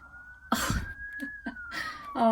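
A siren wails steadily in the background, a single sustained tone, while a nearby cough and short bursts of voice break over it.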